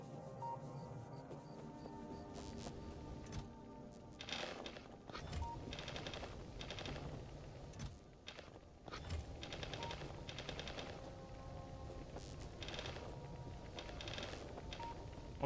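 Gun turrets in Factorio fire piercing rounds in rapid clattering bursts, steady at a moderate level over game ambience, with brief pauses between volleys.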